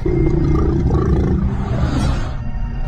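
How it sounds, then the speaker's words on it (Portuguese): A deep, rough roaring growl, loud and close, rumbling continuously for a few seconds before tapering off. "Grunhidos"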